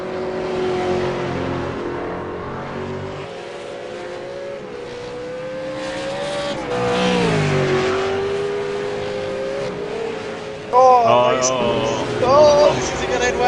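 A V8 Supercar engine holds a steady high drone on a flying lap at Barber Motorsports Park, pitch shifting through gear changes and revs, with tire squeal and sharper revving near the end, all under a commentator talking.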